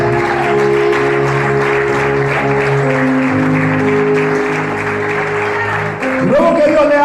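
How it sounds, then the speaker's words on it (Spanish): A church congregation applauding during an evangelist's Spanish-language sermon, a sustained wash of clapping mixed with background music and voices. "Denle un fuerte aplauso."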